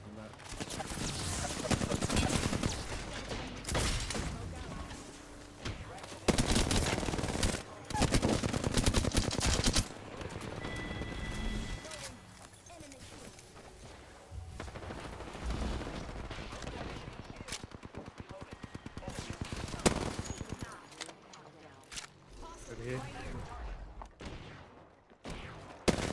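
Rapid bursts of automatic gunfire and single shots in Apex Legends, loud close-range combat with repeated volleys, brief pauses and scattered impacts throughout.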